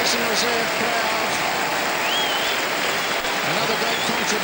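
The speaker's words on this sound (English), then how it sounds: "Martin Crowe getting a big hand from the Basin Reserve crowd" A Basin Reserve cricket crowd at the 1992 World Cup match between New Zealand and England applauds Martin Crowe's fifty, a dense, sustained wash of clapping with a commentator talking over it.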